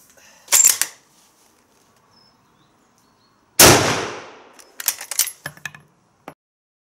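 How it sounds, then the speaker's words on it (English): A worn Mauser Kar98k bolt-action rifle jams with a hard extraction. Sharp metallic clanks ring out, then a loud burst of gritty scraping, followed by a scattered run of quick metal clicks and knocks. Everything is close and there is no talk. "we've got a hard extraction"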